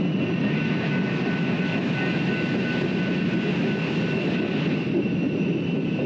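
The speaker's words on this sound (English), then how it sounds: "This is actually a much shorter train than usual." A passing train on a railway produces a steady, broad rumble with a faint whine, holding at a constant moderate loudness throughout with no voices.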